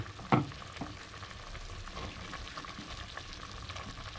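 Pork belly and eggplant frying and simmering in a pan give a steady close sizzle with soft bubbling, broken early by a sharp utensil knock and a few lighter scrapes.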